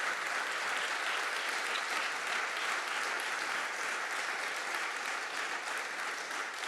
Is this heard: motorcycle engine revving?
no